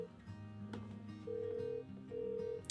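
An outgoing telephone call to a private seller about a car, heard through the handset: steady tones pulse in repeated bursts against a low hum. The tones are fairly loud and no voices are heard.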